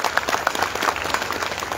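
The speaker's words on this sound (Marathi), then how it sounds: "आपण सर्वांनी टाळ्या वाजून त्यांचंही या ठिकाणी स्वागत करा" An audience claps to welcome guests at a Jijau birth anniversary gathering, producing dense, steady applause throughout the short moment without any voices.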